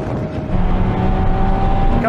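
Porsche 911 Turbo S accelerating hard in a drag race, a continuous loud engine roar with a rising tone over steady road and wind noise.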